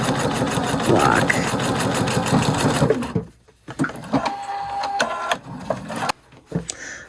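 A Pfaff sewing machine stitches quilt block pieces in a fast, rhythmic run for about three seconds, then stops. Brief clicks, handling noises and a few short bursts of the machine follow.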